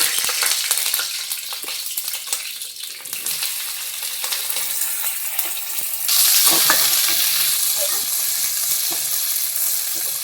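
Curry leaves and chana dal fry in hot oil for an okra fry, a steady close sizzle with stirring scrapes that grows louder partway through, with no talking.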